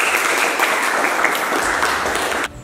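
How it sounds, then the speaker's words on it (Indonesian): Steady, dense applause from a classroom audience at a vocational lesson on motorcycle fuel injection, loud and continuous for a couple of seconds before cutting off abruptly. "Kita berikan aplaus kembali."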